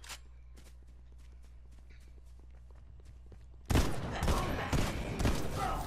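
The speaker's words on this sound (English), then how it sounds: "Yogi's over there shooting" Rapid gunfire bursts in Fortnite erupt loudly partway through, dense and sustained, following a stretch of quieter sparse game sounds and a low steady hum.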